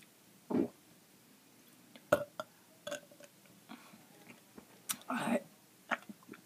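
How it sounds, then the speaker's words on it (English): Several separate burps from one person, a short throaty one early, then a sharp one and a longer drawn-out belch near the end, with small mouth and chewing noises in between, close and fairly quiet. "I'm gonna try that other burp again."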